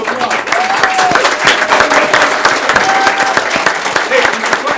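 Sustained audience applause fills a city council meeting room, dense clapping at steady loudness with a few voices and whistles mixed in, running the whole stretch.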